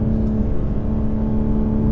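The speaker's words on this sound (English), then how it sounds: "Whoa, when you rev this thing out" A 2023 BMW M4 Competition xDrive engine revs hard under acceleration, a loud, steady, dense drone heard from inside the car with no talking.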